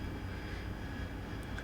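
Harrier jet engine in the DCS flight game with its nozzles turned downward for a hover, a steady, low, broadband rumble with a faint whine above it, continuous and unbroken.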